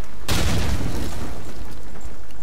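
A single loud grenade blast in Call of Duty 2, a sudden close boom with a rumbling, fading tail, heard alone.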